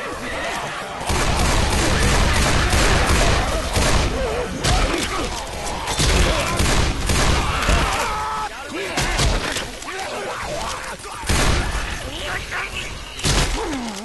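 Left 4 Dead 2 gunfire on the Hard Rain expert map, dense cracking shots and impacts in rapid bursts, loud and chaotic, with people talking over much of it.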